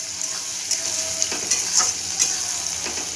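Food frying in a pan while being stirred, a steady close sizzle broken by scraping stir strokes at irregular intervals, with no talking.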